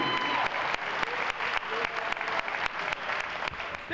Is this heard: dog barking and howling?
no